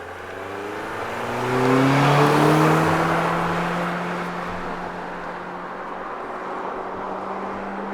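A car engine revs hard to about 6,800 rpm on a snowy road, rising pitch sweeping up loudly then holding a high, strained whine before easing off, close and alone without talk.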